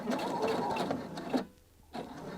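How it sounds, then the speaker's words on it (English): A sewing machine stitches across the short edge of fabric for a bound buttonhole with a fast, close mechanical chatter. It pauses briefly, then starts again. "So let's just stitch across this short edge now and backtrack a few times just to secure"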